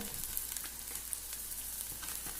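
Ground coriander powder sautéing in a pan over low flame, giving a steady soft sizzle with faint stirring scrapes, close and fairly quiet with no talk.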